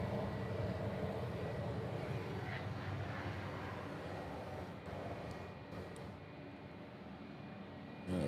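Steady broadband roar of jet engines from F-22, F-35 and F-15 fighters as one turns onto the runway during the Sentry Aloha exercise in Hawaii, a continuous heavy rumble that eases slightly toward the end.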